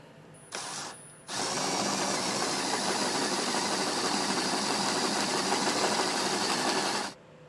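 A drill bores a 1/2 inch hole into the steel frame of a 2015 Audi Q3 during trailer hitch installation, starting with a short burst, then running steadily and loudly for about six seconds before stopping.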